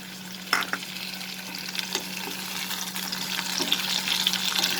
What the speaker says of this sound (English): We'll fry this together. For another 3 to 4 minutes.